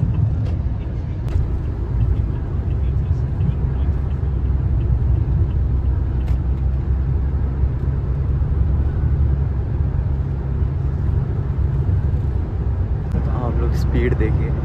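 A car cruises at about 90 km/h along an ordinary open road with no traffic, producing a steady, even road and engine rumble throughout while a person talks over it.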